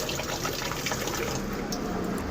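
Water gushes steadily into the tub of an LG semiautomatic washing machine, a continuous broadband rush that stays even and fairly loud from start to finish with no talking over it.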